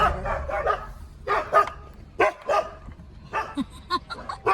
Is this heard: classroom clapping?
no